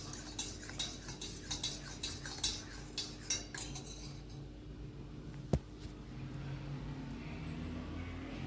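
A spoon stirs honey into black tea, clinking rhythmically against the cup for about four seconds before the clinks stop and a single sharp tap rings out, leaving faint background hum.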